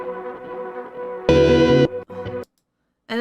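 An electric guitar loop runs through an ambient delay plugin, picked notes ringing with echoing repeats, then a loud strummed chord swells and cuts off, leaving a few fading tails before silence and a fresh strum.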